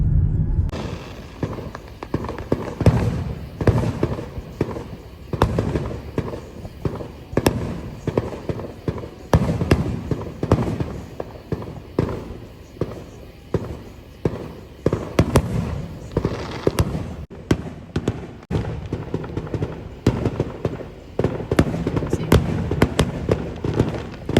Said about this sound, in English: We're fireworks chasers now.